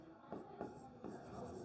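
Pen moving across paper while a math proof is written out, a quiet close series of short scratchy strokes with no voice.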